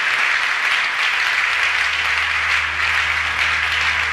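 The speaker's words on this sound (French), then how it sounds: "On peut joindre nos mains, acclamons Jésus." A church congregation applauds steadily for Jesus during a French and Lingala service, a dense, loud, continuous wash of clapping from many hands lasting throughout, with a faint low hum underneath.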